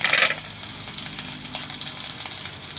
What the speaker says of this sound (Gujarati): થોડીક આપણે રાઈ નાખશું રાઈ તકડી જાય